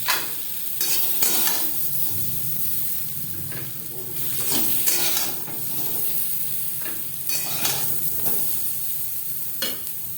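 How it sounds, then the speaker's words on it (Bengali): Potatoes fry in oil in a wok with a loud, continuous sizzle and hiss, punctuated by repeated scraping stirs and tosses of the spatula in bursts; very close, with no speech. "আলু হালকা করে ভাজা হয়ে গেছে, এর থেকে বেশি ভাজবার প্রয়োজন নেই"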